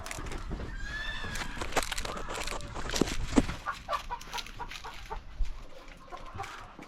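A hen clucks and calls out from somewhere on a roof, a few uneven squawks and clucks at moderate distance over faint background noise.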